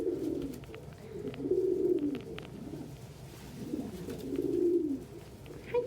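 Pigeons or doves coo in low, repeated rolling phrases at close range during a morning breakfast feeding, with soft pulsing calls rising and falling over faint background noise.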